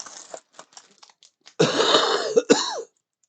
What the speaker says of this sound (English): See what I mean about that cough? It's terrible.